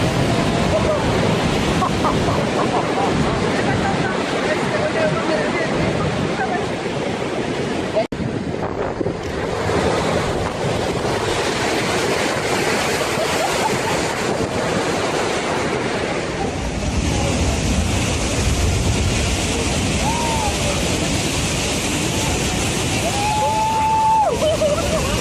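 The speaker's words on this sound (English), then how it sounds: "During the winter months, San Sebastian Bay sees waves rise as high as 30 meters" Large ocean waves roll and crash in San Sebastian Bay, a continuous loud surf roar buffeted by heavy wind noise on the microphone, with no clear voices.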